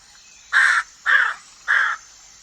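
Crows cawing as a storybook sound effect: three loud, harsh caws, evenly spaced and close, with silence in between.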